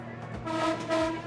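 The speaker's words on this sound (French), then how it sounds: "j'entends dans le wagon que vous n'arrêtez pas de klaxonner" A Philippine train's horn sounds in two short, loud blasts close by, heard from inside the carriage, with rumbling rail noise underneath.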